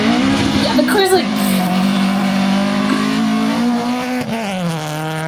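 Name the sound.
rally car driving over dirt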